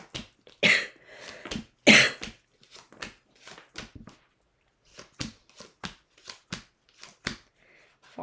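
Tarot cards are shuffled in short irregular bursts of crisp riffling, with two louder sharp flurries early on and quieter rhythmic card snaps following.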